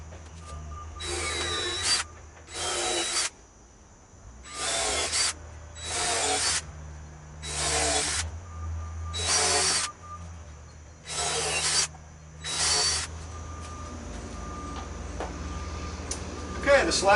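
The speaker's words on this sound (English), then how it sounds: "I'm going to drill the holes first." A power drill bores holes in wood in eight short bursts of a couple of seconds each, separated by brief pauses, with a steady hum underneath.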